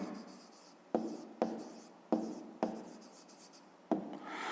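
A pen or pencil writing a math expression on paper, five distinct scratchy strokes in an uneven rhythm, close and quiet.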